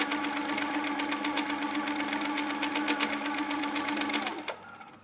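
Sewing machine running steadily for free motion quilting, a fast, even mechanical stitching rattle close up that stops abruptly near the end.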